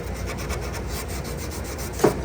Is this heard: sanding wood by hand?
yes